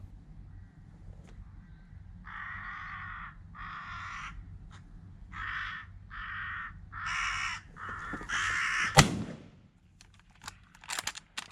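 Crows cawing in a run of about seven harsh, evenly spaced calls, fairly close, followed by a sharp gunshot crack and a few faint clicks.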